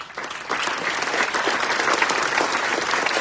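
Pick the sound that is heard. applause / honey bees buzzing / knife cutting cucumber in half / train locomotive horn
applause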